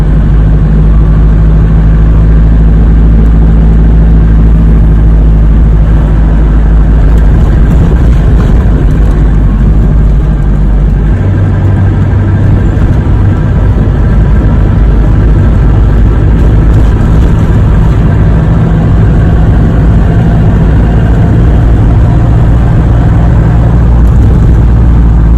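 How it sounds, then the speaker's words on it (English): Talbot Express 2.5D diesel van from 1993, fitted with a new fuel primer and filter, running on a test drive: a steady low engine drone and road rumble throughout, fairly loud and continuous, with no talking. "Right, see what it does on the fuels, shall we? Go and give it a test drive."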